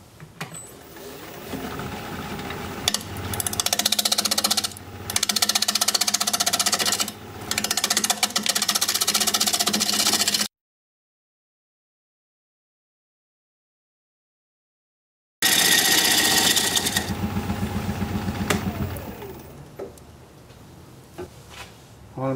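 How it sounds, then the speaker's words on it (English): A wood lathe turns a bowl at about 900 RPM while a 5/8 inch bowl gouge cuts, giving a loud, steady scraping whir with rhythmic ticks, broken by a gap of silence before the cut resumes, with no speech. "We're going to be turning at about 900 RPM, 5/8 inch bowl gouge"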